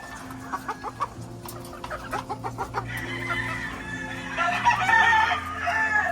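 Laying hens at a poultry farm cluck in a steady run of short calls while roosters crow loudly nearby, the flock growing louder toward the end.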